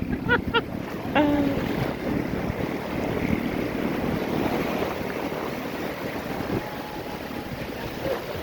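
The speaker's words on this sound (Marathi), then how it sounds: "काय लाटा मोठ्या मोठ्या येतात." Big ocean waves at Arnala beach rolling in, a steady wash of surf with gusting wind noise on the microphone, a voice and a few calls briefly near the start.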